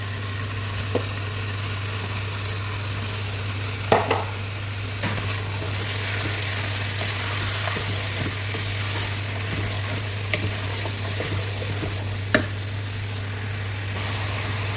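Chicken gizzards sizzling in a pan on the stove, a steady close frying hiss with occasional scrape and clink of a spoon stirring, under a constant low hum and with no talking.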